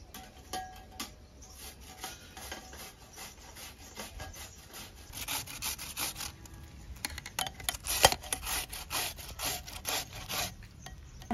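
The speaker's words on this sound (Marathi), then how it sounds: "ह्या काकडीच्या सगळ्या साली काढून घेतल्यात आणि याला मी आता किसून घेणार आहे छानपैकी" Peeled cucumber grated by hand in a home kitchen: a series of quick, rhythmic rasping strokes, soft at first and growing louder and denser toward the end, with no talking.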